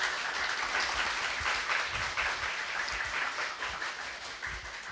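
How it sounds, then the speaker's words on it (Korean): Lecture audience at a public science talk in Seoul gives a professor sustained applause, a soft, even spread of many clapping hands from a distance, fading slightly toward the end. "서성현 교수님께 큰 박수 부탁드리겠습니다."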